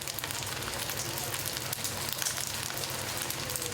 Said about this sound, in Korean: 밥이 타닥타닥 하는 소리가 들려요